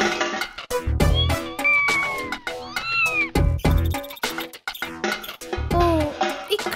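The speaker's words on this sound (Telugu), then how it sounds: "గంటు పిల్లి తిరుగుతూ ఉంది" A cartoon cat meows repeatedly in drawn-out, wavering cries, interspersed with dramatic music hits and effects in an animated scene.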